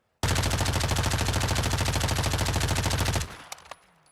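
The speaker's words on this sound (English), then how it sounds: "This is the Lachmann Sub, aka MP5." Lachmann Sub (MP5) submachine gun fire in Call of Duty: Modern Warfare II, one sustained rapid automatic burst of about three seconds, loud and close, ending abruptly with a few faint clinks afterward.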